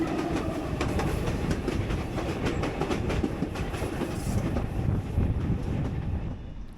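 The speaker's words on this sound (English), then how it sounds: "The unit that was meant to operate the service from Poti to Tbilisi is being pulled by a VL10 locomotive." A passenger train pulled by a VL10 electric locomotive from Poti to Tbilisi, Georgia, through a mountain pass, rolls steadily with rhythmic clickety-clack of wheels and a continuous rumbling roar, heard from on board.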